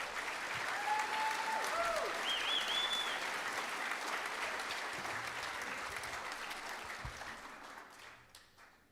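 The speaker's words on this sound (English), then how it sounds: "I do believe that these candidates deserve a very big round of applause." An audience at a Taupō District Council meet-the-candidates evening gives the candidates a sustained round of applause, dense and steady before gradually fading toward the end, with brief faint chirps over it.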